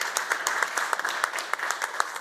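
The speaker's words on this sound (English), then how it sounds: "Good applause." Modest round of audience applause at a business AI workshop, a scattering of claps with irregular sharper hits over a steady patter, fairly quiet and without voices.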